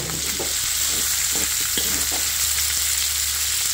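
Chicken liver frying in hot oil for pancit canton gives a steady, close, loud sizzle, with faint stirring clicks scattered through it and no talking.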